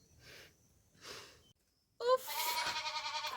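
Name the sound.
goats bleating on a Kenyan farm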